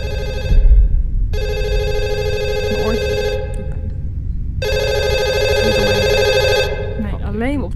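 Telephone ringing in a horror video game, two long bursts of electronic bell ringing separated by a pause, loud and close, with people talking over it.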